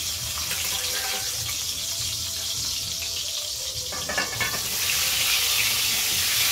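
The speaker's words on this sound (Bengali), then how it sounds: "চলো ভেজে নিই এবার।" Eggs rubbed with salt and turmeric frying in a home kitchen, giving a steady hiss and sizzle that swells louder toward the end, close by, with no speech.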